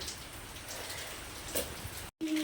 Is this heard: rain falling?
yes